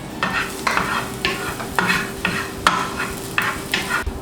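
Chopped garlic frying in a pan alongside golden nuts, a steady sizzle broken by repeated scraping stirs at a fairly even rhythm, close and alone with no talk.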